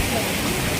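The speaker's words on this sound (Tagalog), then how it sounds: "Kaya lang umuulan na." Rain falling at a resort with a koi pond and boats, a dense, even hiss of drops spread across the whole brief moment, with no other sounds standing out.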